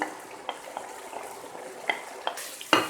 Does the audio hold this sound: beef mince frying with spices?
yes